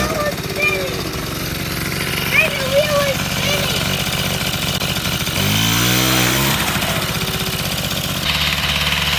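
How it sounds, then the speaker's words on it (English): A 1980 Honda Express scooter engine running with a runaway idle, a steady loud buzzing putter up close that rises briefly in pitch before settling, with a voice faintly in the background. "We've got kind of a runaway idle situation."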